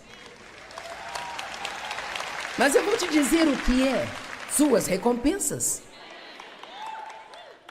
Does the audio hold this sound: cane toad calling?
no